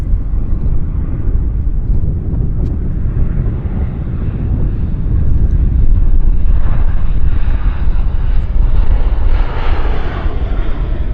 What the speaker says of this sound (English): So I think we may get this Horizon Embraer,